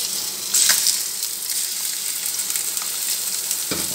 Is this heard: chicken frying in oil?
yes